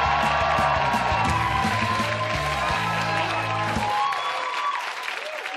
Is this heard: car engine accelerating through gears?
no